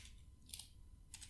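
Keys tapped on a computer keyboard while entering code, a few quiet, separate clicks spread across a short stretch with no one talking.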